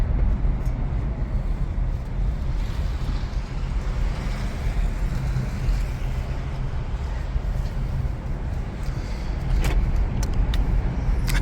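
A 2019 Chrysler Pacifica minivan rolls through a garage in EV mode, producing a continuous low rumble of tires and suspension with a few faint knocks and ticks, steady and close, with no voices.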